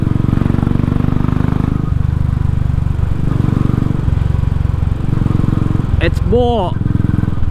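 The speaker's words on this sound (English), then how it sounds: "Completely cold bike, leapt to life with a little bit more enthusiasm, idled more smoothly" A Royal Enfield motorcycle running a Powertronic map on a road test, its single engine thumping steadily and loudly throughout, with brief speech near the end.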